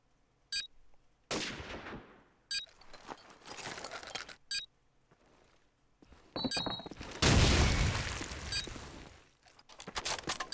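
Rapid bursts of SMG fire in a Call of Duty 4 Promod match, sharp cracks and rattling volleys broken by short pauses, with one loud, dense burst toward the end.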